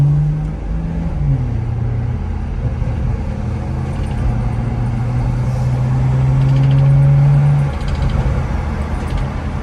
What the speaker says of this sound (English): you can hear the turbo whistling.